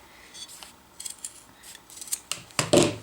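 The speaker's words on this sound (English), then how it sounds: "I'll just cut this here" Scissors snip through cord for a water bottle carrier, a few light scraping cuts ending in a louder crisp snip at the close, near and with no talk.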